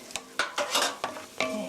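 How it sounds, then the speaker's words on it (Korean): Seasoned meat for japchae is stir-fried in a hot pan, with a series of sharp, close scraping strokes about every quarter second over a continuous sizzle. "고루 볶아주세요."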